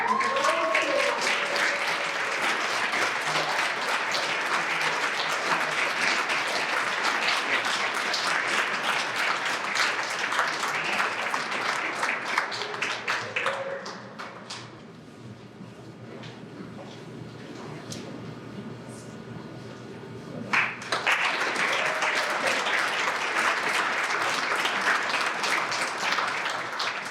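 Steady, full applause from an awards-night audience, loud and continuous, briefly thinning and quieting for several seconds midway before swelling back to full strength.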